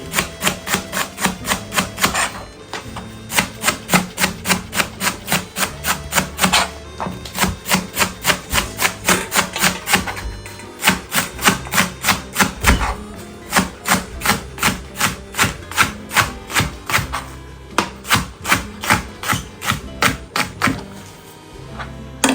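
A knife strikes a cutting board in quick rhythmic runs, with short pauses between bursts, as leeks are chopped. The taps are crisp and close, with no voices.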